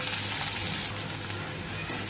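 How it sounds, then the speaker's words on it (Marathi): Finely chopped onion fries in hot tempering oil with popped mustard seeds and cumin, giving a steady, close crackling sizzle that stays fairly even for about two seconds with no voices. "मोहरी चांगली फुलली की आपण एक चमचा जिरे घालणार आहोत आणि एक बारीक चिरलेला कांदा घालत आहे"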